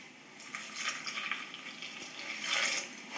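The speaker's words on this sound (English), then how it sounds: "A cup of room temperature water." Room-temperature water poured into flour for a focaccia sponge, a soft hissing trickle that swells and fades in faint, uneven bursts, quiet and close with no talking.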